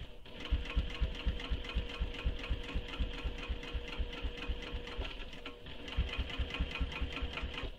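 A sewing machine stitches slowly along a seam of a fabric clutch, its needle thumping in a steady, close rhythm that runs almost without pause, with a brief slowdown midway.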